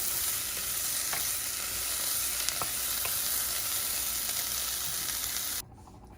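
A Tamil chutney base sautéing in a pan gives a steady, close sizzling hiss with faint scraping stir clicks, continuous for several seconds before dropping off abruptly near the end.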